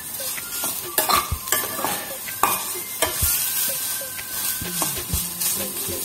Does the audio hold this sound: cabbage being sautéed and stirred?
yes